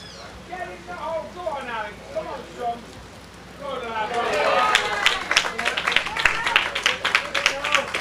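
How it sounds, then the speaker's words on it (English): A footgolf crowd at hole 18 of a world championship in Acapulco bursts into cheering and clapping after a putt. It starts with scattered voices, then swells into sustained applause and shouts that run to the end. "Just saw a fantastic putt on hole 18. That's the cheer you can hear here."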